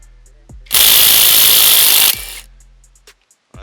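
A Bauer cordless impact wrench hammers on a car strut bolt in one loud, close burst of about a second and a half, with rapid rattling blows, then cuts off into quiet with faint clicks.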